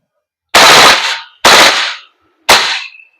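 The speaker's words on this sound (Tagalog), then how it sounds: "Okay, so ngayon, full auto." A VFC Umarex HK416D Gen 4 airsoft gas blowback rifle fires full auto in three loud, close bursts, each a rapid, harsh rattle separated by brief silence, with the last burst shorter and trailing off.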